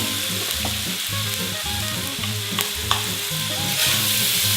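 Chopped carrots, onions and celery sizzle in bacon and butter for a turkey Bolognese sauce, a loud, close, continuous frying crackle with repeated scraping stirs and a few sharper clicks, no voices.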